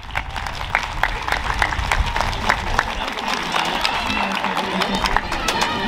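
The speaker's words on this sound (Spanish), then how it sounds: "Démosle un gran aplauso a la Cónsul General" A crowd applauds for Mexico's Consul General in San José at the Oaxaca by the Sea 2022 Hispanic Heritage celebration: dense, steady clapping and cheering that holds at full strength for several seconds.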